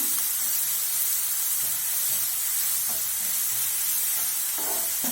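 Chopped onions sautéing with powdered salt in a pan for bread chilli, a soft steady sizzle with occasional stirring scrapes, close and continuous with no talk.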